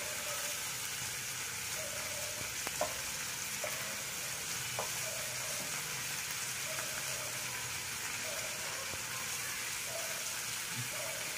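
Locally caught river nanthan fish frying in oil: a steady, moderate sizzle runs throughout, broken by a few light clicks and taps.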